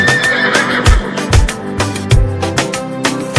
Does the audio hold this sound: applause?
no